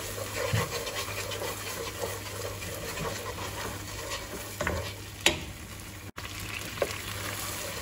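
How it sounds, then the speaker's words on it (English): Turmeric and salt being stirred into a raw kubba meat mixture for Iraqi meat dumplings, a soft continuous scraping and squishing with a few sharper knocks near the end, close by and steady, no talking. "Stir it in."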